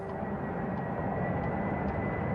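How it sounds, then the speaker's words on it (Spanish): A steady, dense roar of an aircraft jet engine, continuous and loud without variation, with no voices over it. "un invento que desde hace más de 50 años logra el despegue veloz y seguro de los aviones: el motor a reacción"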